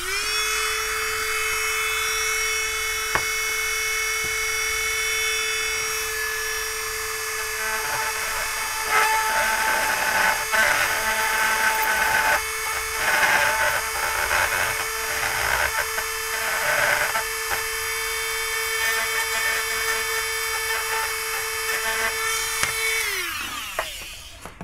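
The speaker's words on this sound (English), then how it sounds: "you could try using a knife or a milling bit in a Dremel" Dremel rotary tool with a milling bit cutting into plastic, a sustained high-pitched whine at constant speed with rougher grinding bursts as the bit bites, winding down at the end.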